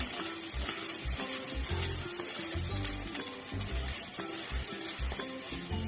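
Stuffing paste for stuffed spiny gourd frying in hot oil and stirred around the pan, a busy crackling sizzle with repeated scraping strokes, close and steady.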